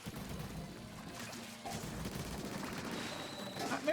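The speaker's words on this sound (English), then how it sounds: "Is it cannons? Oh, it is cannons." Cannons firing in Splatoon 3 produce a steady burst of rapid, crackling shots that grows louder halfway through, with splashy impacts and a rising electronic tone near the end.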